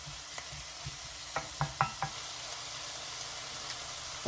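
Onion softens in a pan over heat for Greek cod saganaki, a faint, steady sizzle with a few light knocks and taps of a utensil against the pan.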